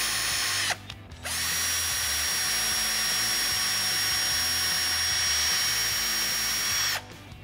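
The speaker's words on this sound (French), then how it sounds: "Si vous avez besoin de percer aussi dans les angles, vous avez la possibilité, tout en gardant le bout de vissage, de fixer le mandrin 10 mm" An AEG BBS 12C2 12-volt cordless drill driver fitted with an angle head spins up and runs at a steady high-pitched whine for about six seconds, with a short stop near the start.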